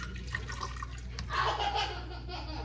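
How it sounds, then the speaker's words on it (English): Wine poured out in a short, close splashing gush that swells about halfway through and then flows steadily to the end. "I guess I can pour some wine"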